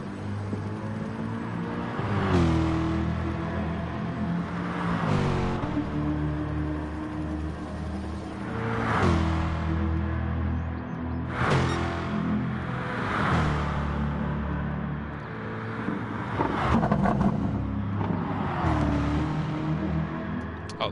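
Race car engine lapping Mount Panorama in the video game GT Sport: the engine revs climb and drop again and again as gears shift, loud and close with a steady drone, and no one speaks.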